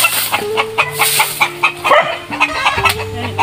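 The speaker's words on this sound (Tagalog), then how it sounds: "daming manok yan, no?" Many chickens kept at a neighbor's place cluck steadily in overlapping calls, close and fairly loud, with a repeated pulsing rhythm throughout and no talking.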